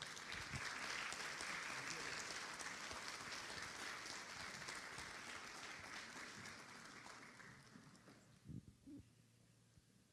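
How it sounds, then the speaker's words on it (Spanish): A crowd at an education innovation congress gives a strong round of applause to welcome the university rector: dense clapping that fades gradually over about eight seconds, then a few close bumps as it dies away. "Le recibimos con un fuerte aplauso."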